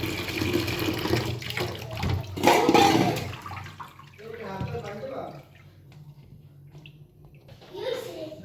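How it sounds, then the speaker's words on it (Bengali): Running water rinsing chopped banana stem in a strainer: steady splashing and gushing that is loudest early, then thins out, with someone speaking over it near the end. "সফট একটা স্টেইনারে নিয়ে ভালো করে ধুয়ে নিচ্ছি"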